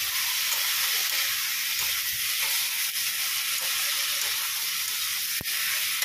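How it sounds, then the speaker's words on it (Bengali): Green jackfruit, already boiled, sautés in a pan with fried potato and onion, giving a loud, continuous, even sizzle and hiss with a few faint clicks, close up and without speech. "এখানে দেখো এঁচোড়টা কষাতে বসিয়ে দিয়েছি"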